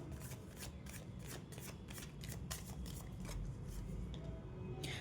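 Tarot cards are shuffled in a steady run of soft, rapid riffling flutters, close and fairly quiet, with no talking.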